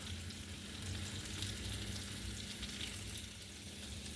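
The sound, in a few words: lamb chops sizzling in melting butter in pan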